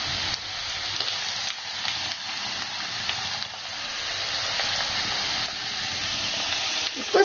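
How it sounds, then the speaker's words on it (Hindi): Okra (bhindi) frying in hot oil in a pan, a steady close sizzle and hiss running continuously with slight swells, alone without talk. "देखिए ऑयल गर्म हो चुका है हमारा। अब हम ये भिंडी इसमें डालना स्टार्ट करते हैं।"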